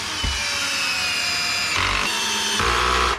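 A loud, steady whir of a power screwdriver or drill drives a screw to fit a special cabinet hinge on kitchen cabinet doors, running continuously at close range with the motor pitch shifting partway through and no voices.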